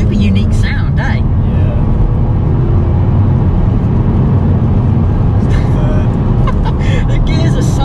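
A Vauxhall Astra VXR hot hatch accelerates hard in second gear, its engine a loud, steady droning roar heard from inside the car after a brief lag, with a person talking over it.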